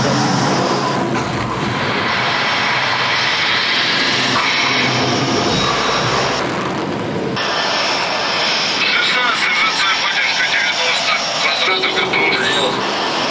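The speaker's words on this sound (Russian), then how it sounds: "Внимание на блоке, самолет зацепом, все в укрытие." Jet trainer aircraft landing on an arresting-wire runway block, the engine roar loud and broadband throughout with a shift partway as the hook catches, heavy continuous noise with talk faintly beneath.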